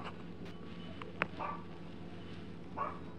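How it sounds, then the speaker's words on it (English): A dog gives a few quiet, scattered barks and whimpery yips in the dark, faint and spaced apart against a low background hum. "You're just sitting here barking in the dark."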